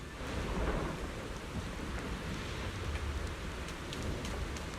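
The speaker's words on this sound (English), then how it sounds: "the clear sky turns dark with heavy clouds, thunder and lightning crackles, and rain threatens to swallow the entire hidden realm" Steady heavy rain with rumbling thunder in a dramatic storm sound effect, a dense continuous wash of falling water with low rolling booms underneath and a few sharp drop hits, full and close throughout with no voices.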